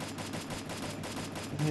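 Rapid gunfire crackles in a busy, dense burst during a Free Fire match, loud and continuous with no clear pauses between shots.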